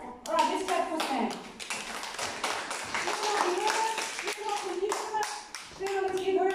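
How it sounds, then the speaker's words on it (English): An audience of children and adults at a school honor roll award assembly claps in a steady, close burst of hand claps, with children's voices chattering throughout. "Can we clap for each other?"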